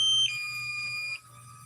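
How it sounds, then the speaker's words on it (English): A drone's low-battery warning sounds as a thin, high-pitched electronic tone, holding steady for about a second before stepping down and cutting off, with faint low hum beneath. "I got low battery. I got to go down and land it. You can hear it beeping."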